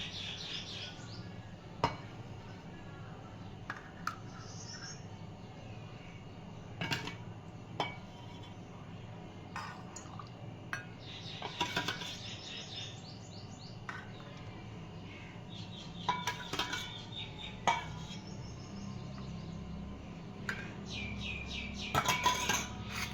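Thick lassi is poured and served into glasses, with clinks of glass and cutlery and scattered sharp taps in a kitchen, while birds chirp faintly in the background.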